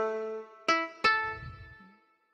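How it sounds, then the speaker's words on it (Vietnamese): A dan nguyet moon lute sample on a Yamaha PSR SX keyboard plucks a few bright, twangy notes with sharp attacks and ringing decays, close and clear, with no talking. "đàn nguyệt nè"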